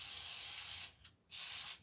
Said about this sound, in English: We're gonna spray some WD,